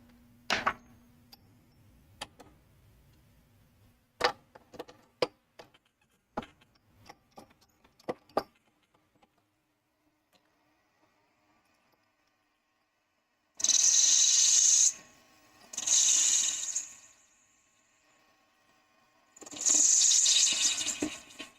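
Cutting tool trimming a black opal fountain pen blank on a lathe, heard first as a run of sharp ticks and taps, then as three loud bursts of hissing, high-pitched shaving, each lasting a second or two, with quiet gaps between.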